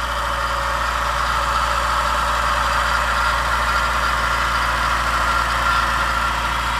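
A 1993 Toyota pickup's small fuel-injected four-cylinder engine idles in a steady, even hum at moderate volume, close by and with no one speaking.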